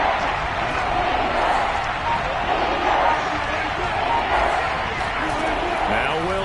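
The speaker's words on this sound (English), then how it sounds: "This crowd urging on their defense." A football stadium crowd roars continuously for its defense on third down, a dense, loud wash of cheering with scattered thuds and a voice rising near the end.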